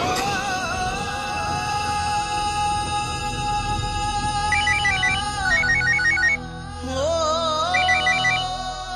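A mobile phone ringtone plays loudly and steadily, a repeating electronic melody that runs without a break and carries no talk.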